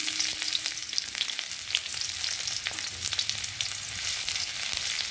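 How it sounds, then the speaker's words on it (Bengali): Onions frying with garlic in hot oil for a tomato and red lentil dal, giving a continuous close crackling sizzle with occasional stirring clicks throughout. "পেঁয়াজটা একটু ভালো করে ভেজে নেব।"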